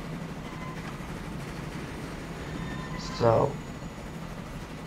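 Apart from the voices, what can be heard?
steam locomotive train running in video game Transport Fever 2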